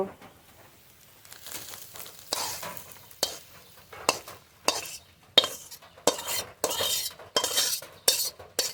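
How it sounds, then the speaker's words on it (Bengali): Okra frying in oil is stirred with a utensil, making repeated close scraping and rustling strokes against the pan. The strokes quicken and grow louder over a faint sizzle. "ভেন্ডি নেড়ে নেড়ে খুব ভালো করে ভেজে নিয়েছি"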